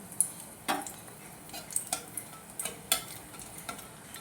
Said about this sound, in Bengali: আমি ওই তেলে দেখুন দুটো শুকনো লঙ্কা দারচিনি ছোটো এলাচ দিয়ে দিলাম